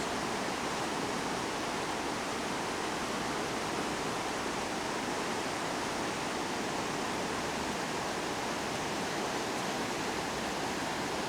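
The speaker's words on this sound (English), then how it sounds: "it would be nice having a hotel right on this river, listening to this all night" Steady broadband rush of river water flowing below a hotel, continuous and fairly close with no pauses or voices.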